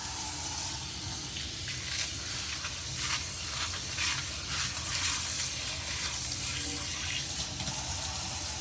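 Hot tap water runs steadily over gold jewelry chain links in a sink, a continuous close hiss and splash with no break and no voices.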